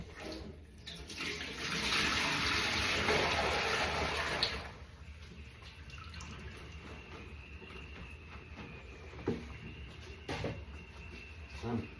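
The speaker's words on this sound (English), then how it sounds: "if I tip this water away." Water pours out in a loud rushing splash for a few seconds, then fades into quieter dripping and room noise with a couple of light knocks.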